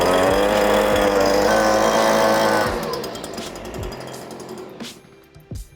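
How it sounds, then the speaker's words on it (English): A loud, steady motor whine with a rough mechanical roar runs for nearly three seconds, then drops off into quieter clatter and a few short bursts. "just a leaf blower"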